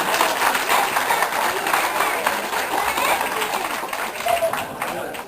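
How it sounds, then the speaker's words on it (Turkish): Audience at a festive gathering claps steadily and densely, a sustained broadband wash of applause filling the whole stretch with a faint murmur of voices underneath. "de bir daha alkışla yani."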